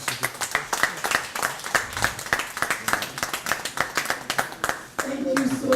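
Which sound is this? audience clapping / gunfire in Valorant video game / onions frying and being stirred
audience clapping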